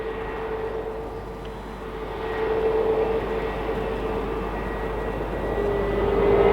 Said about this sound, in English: Another A320 from Iberia. This one's from Corunna.